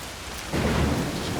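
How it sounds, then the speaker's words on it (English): Steady rain with a low thunder rumble in the video game Assassin's Creed Shadows, a continuous wash of downpour that swells louder partway through, with no talk over it. "even when I'm pretending to be in Japan, it's still raining."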